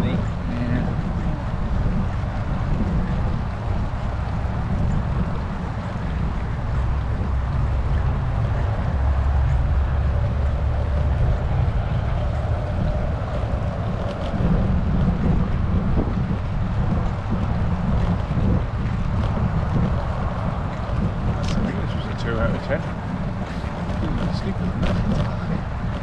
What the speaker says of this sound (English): Headwind going one way.